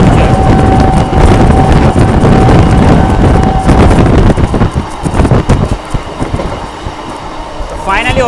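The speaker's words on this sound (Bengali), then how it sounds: "এই দেখো নৈহাটি লোকাল, বিশাল স্পিডে ওভারটেক হচ্ছে।" A Naihati local train races past at high speed while being overtaken by another train near Barrackpore: a loud rushing roar with clattering wheels and buffeting wind, easing off toward the end.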